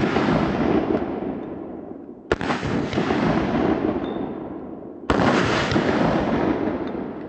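Two sharp, loud gunshots about three seconds apart, each with a long rolling echo off open ground, fired from a pistol using practice ammunition left underwater for five days.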